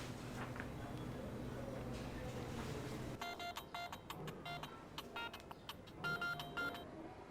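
Telephone being dialed in a home during a drama scene: a quick run of distinct keypad beeps after a stretch of background hum, the tones fast and evenly spaced with short pauses between groups.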